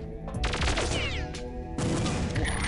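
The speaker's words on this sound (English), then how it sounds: "let's try to pull a headshot before he sees us" Gunfire in the Perfect Dark Deep Sea level, mixed into a loud, dense wash of game sound effects and music, with crackling bursts over a continuous roar.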